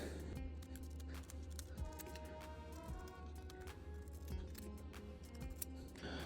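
A Cadillac accessory part is trimmed with a cutting tool, giving repeated short snips and clicks over a steady, humming background.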